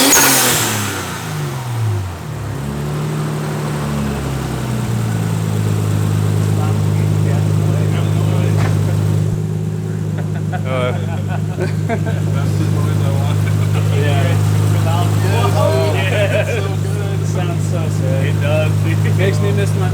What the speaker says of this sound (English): The R33 just took off. That blow-off valve just sounds too good.